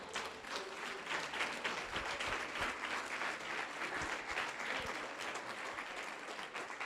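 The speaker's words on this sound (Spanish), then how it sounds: "Dar un aplauso al Señor." A church congregation applauds during a Sunday service, dense clapping from many hands filling the space at a steady, sustained level, heard from a distance and fairly quiet overall.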